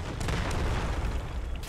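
Explosion in the shooter game Delta Force: Hawk Ops: a dense, continuous low boom and rumble that stays loud for the whole moment, with debris-like crackle on top and no voices.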